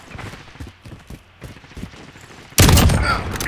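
Gunfire in Call of Duty: Modern Warfare, starting as scattered distant shots and thumps, then a sudden loud, sustained burst of heavy automatic fire and explosions filling the final second.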